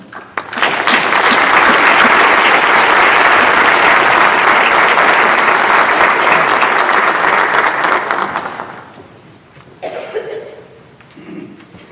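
An audience at the ONE COMMUNITY Conference 2019 for Olentangy Local Schools applauds loudly and steadily for about eight seconds, the clapping then fading out, followed by brief sounds near the stage.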